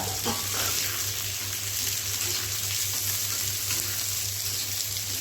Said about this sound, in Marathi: त्यामध्ये आत्ता जिरं मोहरी टाकूया त्या नंतर बारीक केलेला कांदा टाकूया